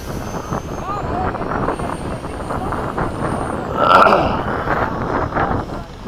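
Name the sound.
radio-controlled model jet engine throttling up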